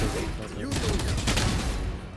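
A Valorant match: rapid bursts of rifle gunfire rattle under a dense mix of game sounds, loud and close, over about two seconds.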